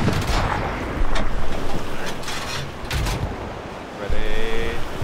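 Rifle volleys crack in the Hell Let Loose shooter in sharp, separated bursts over a constant roaring wind-like battlefield bed, loud and close, with a few spaced shots and a tonal ringing near the end.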